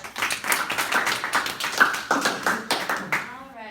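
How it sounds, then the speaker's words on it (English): Audience applause after a speech: a loose patter of hand claps, fairly close and clear, with individual claps standing out in an uneven rhythm before it trails off as a voice begins. "me and a big round of applause."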